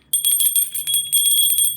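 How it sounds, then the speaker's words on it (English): A small Statue of Liberty souvenir bell rings in quick repeated shakes, bright and close. The metallic jingle is sustained, with brief gaps between bursts. "I'm going to ring a bell"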